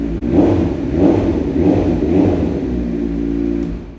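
A 2020 Kawasaki Z900 SE motorcycle engine revs up and down several times in a row. The sound is loud and close with a steady low rumble between the blips and no voices.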